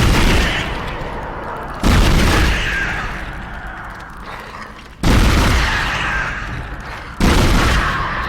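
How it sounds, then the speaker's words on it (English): Weapon fire from the pulse rifle in the video game Dead Space: three loud, abrupt bursts with long decaying tails, spaced about two to three seconds apart, with no talk. "Very controlled fire on the pulse rifle is very good as well"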